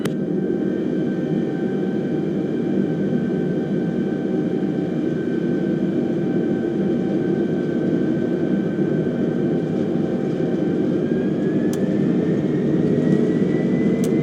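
Jet airliner engines in Microsoft Flight Simulator spooling up for takeoff, a loud, continuous roar with a steady whine that rises slightly in pitch near the end, alone without talk.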